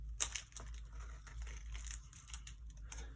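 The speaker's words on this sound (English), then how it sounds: "I'm like trying to be super gentle with ripping the packaging open" Plastic packaging crinkles and tears in small, gentle bursts, close up and fairly quiet, with no voices.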